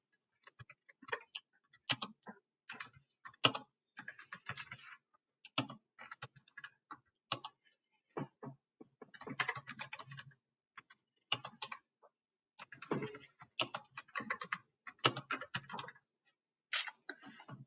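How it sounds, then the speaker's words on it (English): Typing out a vocabulary word list on a computer keyboard, with bursts of light, clicky keystrokes in irregular runs separated by short pauses, close and fairly quiet, ending with one sharper click. "I've typed in all of my words that I want to show up on my list"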